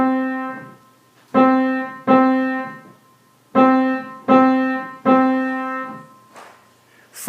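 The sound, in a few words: quarter-note rhythm played on a piano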